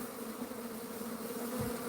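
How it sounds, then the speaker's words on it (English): Many bees buzz in a steady, droning hum, fairly close, with a few louder passes of single insects. "So these bees are all flying out,"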